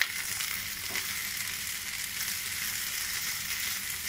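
Okra frying in a pan while being stirred continuously, a dense, even sizzle holding steady throughout with no voices.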